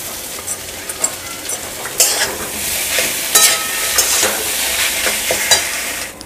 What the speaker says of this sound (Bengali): লো ফ্লেমে রেখে এবার মশলাটাকে একটু কষতে দেব